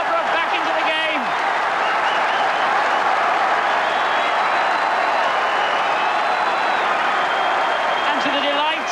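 Home crowd at a Scarborough versus Chelsea League Cup match erupting in sustained loud cheering and applause after a goal, a dense roar with whistles, continuous throughout, with a commentator's voice faintly at the start.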